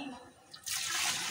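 Water suddenly gushes in a loud, steady rush as it pours into a large pot of rice for village-style chana pulao, following a brief quieter moment.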